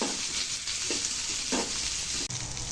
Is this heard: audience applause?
no